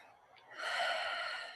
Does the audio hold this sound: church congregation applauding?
no